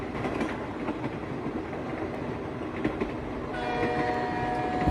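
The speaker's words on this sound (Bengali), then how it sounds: "ট্রেন ধীরে ধীরে বেগুনকোদো স্টেশনে এসে থামল।" Train pulling slowly into a station at night, heavy rumbling wheels with clattering rail noise and a rising horn-like tone near the end as it comes to a stop.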